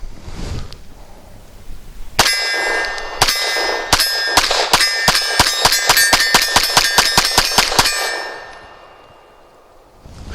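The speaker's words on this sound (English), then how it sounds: "see how the gun runs with a full mag plus one of some affordable federal training ammo" Arsenal Firearms Strike One pistol firing a full magazine of Federal training ammunition at a steel target: a rapid string of about fifteen sharp shots, each followed by a bright metallic ring, loud and close, with no talking.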